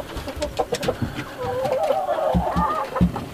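Chickens cluck close by in short, uneven bursts, with a drawn-out warbling call from one bird running through the middle, inside a warm winter shelter shared with rabbits.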